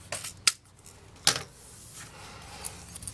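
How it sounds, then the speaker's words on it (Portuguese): Scissors snip along the edge of fabric while a small zippered pouch is sewn, giving two sharp, close clicks a moment apart followed by quieter handling rustles. "eu corto aqui a beiradinha"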